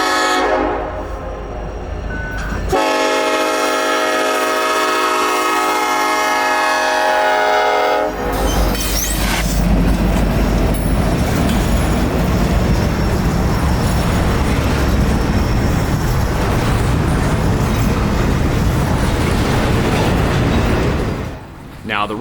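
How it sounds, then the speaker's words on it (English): A train horn blares loudly for several seconds, then a heavy Norfolk Southern double-stack freight train rumbles past on CSX's Chattanooga Subdivision with a steady roar and rattling wheels, close by. "Norfolk Southern double-stack train symboled Z320."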